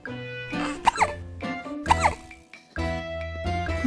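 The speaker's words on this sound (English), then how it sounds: "He has the hiccups." A kitten hiccups in a short run of sharp, squeaky little bursts, each spaced about a second apart, sounding close and clear against a background of harmonic tones.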